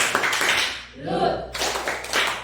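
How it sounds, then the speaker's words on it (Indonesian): A classroom of students does the tepuk salut clapping chant, bursts of group clapping before and after a short stretch of chanted voices, fairly close and lively. "Oke, kita kasih tepuk salut"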